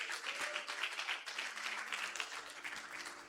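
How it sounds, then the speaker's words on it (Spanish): A church congregation claps together during a Spanish-language worship service, a quiet but steady, even patter of many hands, with no talking over it. "Dale un aplauso fuerte a Dios."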